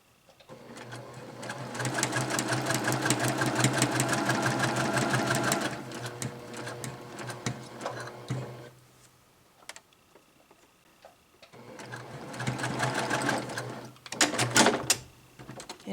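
A sewing machine stitches across a seam on a quilted table topper, running in a fast, even burst for several seconds, pausing briefly, then sewing another short run before stopping; close and clear with no talk.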